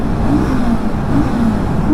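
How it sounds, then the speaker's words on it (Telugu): A motorcycle engine revs close by, a loud continuous drone that rises and falls slightly over about two seconds. "మన బండి ఒకసారి రేసింగ్ చేద్దాము, రీ అందాము, సౌండ్ ఎట్లా వస్తుందో చూద్దాము"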